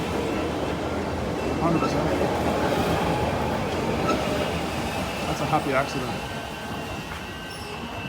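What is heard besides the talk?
Melbourne Sandringham line train departing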